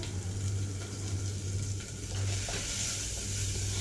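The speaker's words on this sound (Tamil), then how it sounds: "வெட்டி வச்ச வெங்காயம் 2த்தையும் ஆட் பண்ணி நல்லா வதக்கிக்கோங்க" Onions, green chili and curry leaves sizzle and fry in a pan for samba rava upma, with a steady close hiss and occasional stirring scrapes throughout, no talking.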